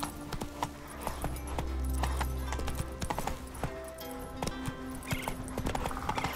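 Roach, Geralt's horse in The Witcher 3, gallops with steady rhythmic hoof clip-clops, close and clear, joined by a brief whinny and jingling tack.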